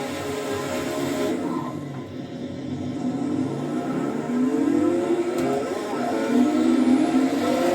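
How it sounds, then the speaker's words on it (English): Porsche 917 race car engines in a racing sim game, a steady loud drone with several rising revving sweeps building over the last seconds, other cars running close alongside. "Now I'm racing against other 917s"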